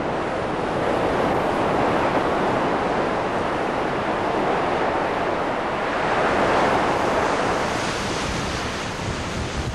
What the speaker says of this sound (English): the waves are coming right up to the cliff and eroding them away